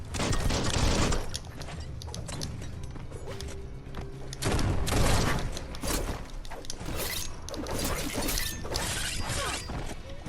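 Gunfire and crashing impacts in Biomutant, loud bursts of shots with shattering and mechanical clatter, the heaviest volleys near the start and middle, almost no talk.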